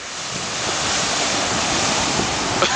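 Ocean waves wash continuously at Miami Beach, a loud, broad surf roar mixed with wind buffeting the microphone.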